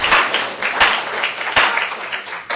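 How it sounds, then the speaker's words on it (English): Audience applause fills the room at a community gathering, a dense, steady clapping from many hands with a few sharper individual claps standing out, sustained loud throughout. "You can all give yourselves a round of applause."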